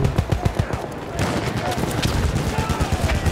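Rapid automatic gunfire in the video game Battlefield, dense repeated shots and bursts filling the scene, with players talking over the shooting.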